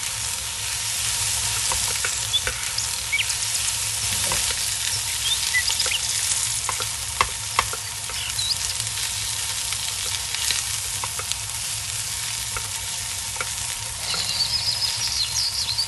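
Chilli powder, turmeric and curry leaves frying in oil in a pan for tomato thokku, with a steady close sizzle and scraping stirs and spoon taps throughout, no talking.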